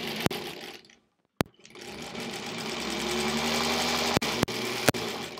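A 1938 Kenmore model 38 sewing machine stitches half-square triangles in a steady whirring run, stopping briefly near the start, then resuming with a few sharp clicks toward the end.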